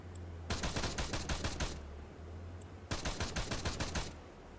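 Two long bursts of rapid automatic gunfire from an Arma 3 firefight in the Syndikat campaign, each lasting over a second, separated by a short lull with a steady low hum underneath.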